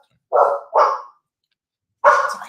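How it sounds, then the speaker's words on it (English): Dogs in a house bark loudly and close by after a door slam: two quick sharp barks, a pause, then a third bark. "so then the dogs are freaking out"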